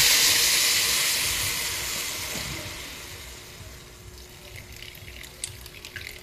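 Water pours into a hot pan of sautéed string beans with a loud hiss that gradually fades, leaving faint sizzling and a few small clinks.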